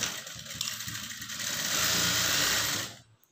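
A sewing machine stitching a blouse lining runs in one continuous, busy mechanical whirr for about three seconds, then stops abruptly; the sound is close and there is no talk.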